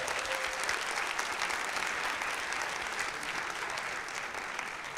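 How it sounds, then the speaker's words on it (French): Steady, dense applause from a live audience at a public show in Paris, loud and even throughout with no break, a few cheers lost in the clapping. "On applaudit Simon, s'il vous plaît"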